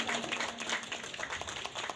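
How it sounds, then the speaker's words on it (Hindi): An audience claps at a university naat competition award ceremony in Karachi, a steady crowd of hand claps that fills the room without pause. "हौसला अफजाई को भी तालियां बजा दें।"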